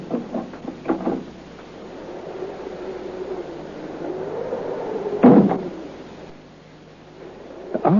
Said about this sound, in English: he applied pressure to one of the door panels, and the door opened